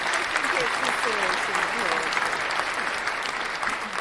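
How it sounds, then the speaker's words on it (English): Sustained applause and cheering from a crowd celebrating a new hall of fame, steady and dense for the whole stretch, with voices and a few whoops mixed in under the clapping. "Let's get an applause for that."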